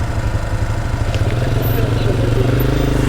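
Honda XR15 motorcycle riding slowly on a dusty pipeline road, its engine a steady, loud low rumble with faint clatter throughout, a voice barely audible beneath.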